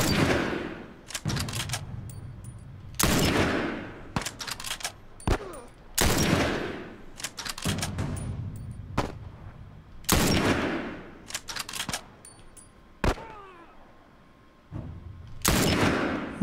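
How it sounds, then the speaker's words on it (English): Gunfire in the video game The Last of Us comes in loud, sharp bursts of single shots and rapid volleys, separated by brief quieter gaps with distant game sounds and no talking. "Nice shooting, Ellie."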